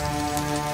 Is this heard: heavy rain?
yes